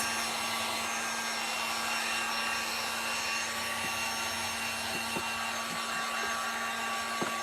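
A hair dryer blows steadily on painted Dollar Tree wood planks, a constant close whooshing hum with a few faint knocks and taps.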